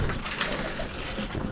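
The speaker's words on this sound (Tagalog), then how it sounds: "Kalapate." Pigeons coo softly in a loft, low rounded calls repeating at a moderate distance over faint background noise.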